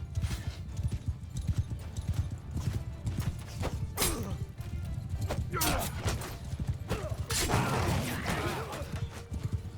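Many horses gallop in the Mount & Blade 2: Bannerlord video game, a dense drumming of hooves that goes on without a break, with bursts of battle noise and shouting voices over it.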